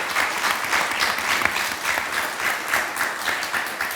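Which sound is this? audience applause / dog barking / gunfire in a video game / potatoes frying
audience applause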